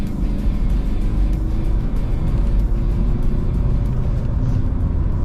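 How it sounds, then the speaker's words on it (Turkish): Steady low engine rumble from inside a Volkswagen Caddy 2.0 TDI van with 347,000 km, a diesel drone holding strong and even as it accelerates, with no talking. "Aracın ara hızlanmasına bir bakalım."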